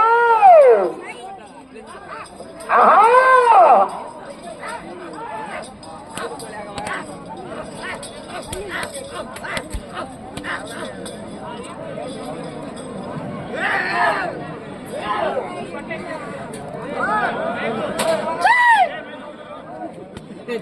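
Crowd noise at a village bull race in Kommunuru, with bursts of shouting and cheering swelling at intervals over a steady murmur of chatter, loud and close around the onlookers.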